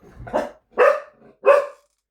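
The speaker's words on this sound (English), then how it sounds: "my little dogs are just going a bit crazy" Small dogs bark indoors, three sharp, loud barks spaced about half a second apart, close to the microphone with no talking.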